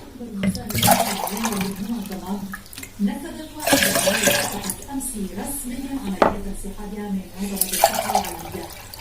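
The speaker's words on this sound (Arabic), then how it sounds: "نضيفو كي قلنا تقريبا لتر ديال الماء" About a litre of water poured into a container for orange and lemon juice, a loud sloshing gush rising in bursts, with a person talking over and between the pours.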